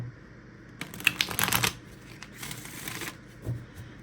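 A deck of playing cards being shuffled close by, with a burst of riffling clicks in the middle and softer shuffles after, and no talking.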